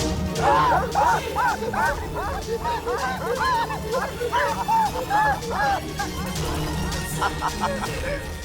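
Several dogs bark in repeated overlapping yips and barks at close range, loud over a steady background rumble, with one dog whimpering near the end.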